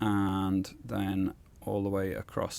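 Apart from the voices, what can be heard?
None of the usual background noises is heard.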